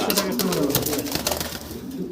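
Racer pigeons coo softly in low, rolling calls amid a busy background hum, the birds close by.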